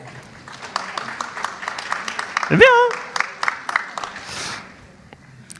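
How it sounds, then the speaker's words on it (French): Scattered audience applause at a conference at the Palais de Tokyo, a short burst of uneven claps that rises briefly and mixes with a person speaking French over it. "Ça, vraiment, ça s'applaudit."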